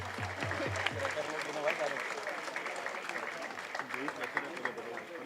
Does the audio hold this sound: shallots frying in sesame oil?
no